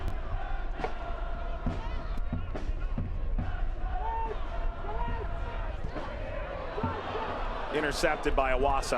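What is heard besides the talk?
soccer stadium crowd groaning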